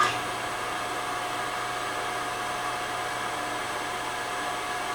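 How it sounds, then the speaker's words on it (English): A phase converter mounted on a workshop wall beside a milling machine runs with a steady, even electrical hum and whir, constant and moderately loud from start to finish. "my phase converter on the wall fakes it out when I flip this switch."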